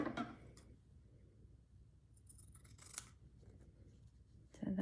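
Scissors snip quilting thread in a few sharp, close cuts, one at the start, a couple around the middle and another at the end, with quiet rustle between and no talk.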